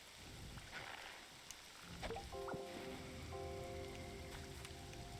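Steady rain in the video game Pokemon Pokopia patters over a continuous hiss, joined midway by sustained electronic tones in the background.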